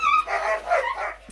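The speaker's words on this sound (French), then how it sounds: "Nous avons des chiens qui se battent." Dogs fight in the Nintendo 3DS game Tomodachi Life, with a quick burst of high yips, barks and whimpering cries that is loud and close.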